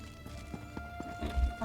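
A horse's hooves clip-clop at a walking pace in the Elder Scrolls Online game, sounding as a few moderately faint, evenly spaced thuds over a soft tonal hum, followed by a heavier low thump.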